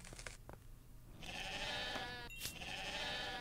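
A sheep in the farming game Deiland gives a drawn-out, wavering bleat, quiet and close, preceded by a few soft clicks, with no speech.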